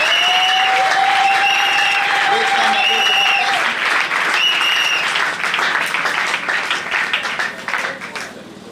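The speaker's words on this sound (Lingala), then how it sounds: "Est-ce qu'on peut applaudir le Seigneur?" Church congregation applauding loudly and steadily through a worship service, a sustained dense wash of clapping that thins near the end, with a held sung or called tone over the first few seconds.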